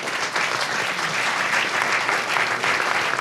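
Audience applause fills the room at the close of a roundtable on deeptech and sustainable innovation, a steady, dense clapping that holds evenly for several seconds with no voices over it.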